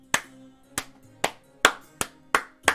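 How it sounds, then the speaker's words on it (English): Seven sharp single claps spaced unevenly about half a second apart, fairly close and crisp, each ringing briefly in a quiet space with no talking. "and I guess you hear some clapping."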